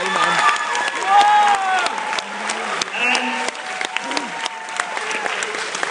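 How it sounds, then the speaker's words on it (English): An audience breaks into steady, sustained applause at a close quiz final, the clapping dense and continuous over a few seconds. "I think VK Patil deserves a thunderous applause."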